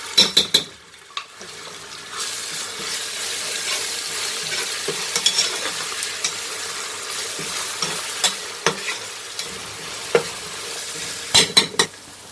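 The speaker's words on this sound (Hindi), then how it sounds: "अब हम इसमें अदरक लहसुन का और सब्ज़ मिर्च का पेस्ट शामिल कर देंगे।" Ginger, garlic and green chili paste sizzles steadily in a hot pan for chicken and potato biryani while a spoon stirs and scrapes, with occasional sharp clinks of metal against the pan.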